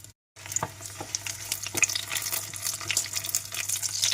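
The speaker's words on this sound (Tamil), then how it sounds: "இப்போ இதை வதக்கிக்கலாம்." Green chillies, about fifteen of them, sauté in oil in a pan for a chutney with garlic, giving a steady close sizzle broken by scattered sharp crackles and spatters, with a low hum underneath.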